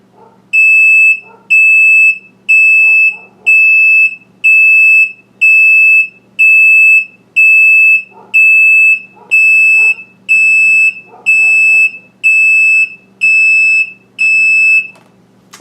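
A septic system alarm horn sounds during a 15-second test, giving a loud, close, shrill electronic beep pulsed in a steady rhythm about once per second, with faint voices in the gaps.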